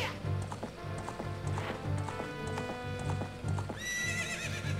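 Rhythmic hoofbeats clip-clop at a steady pace while a horse whinnies loudly near the end, with a musical backdrop, in Ocarina of Time.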